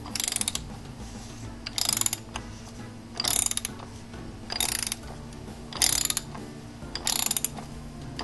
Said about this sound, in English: you're going to use a 1 1/8 socket to remove the oil filter cover